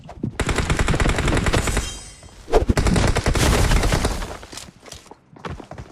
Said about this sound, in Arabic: شوف هو بيناولني بالشوت جان دلوقتي في وشي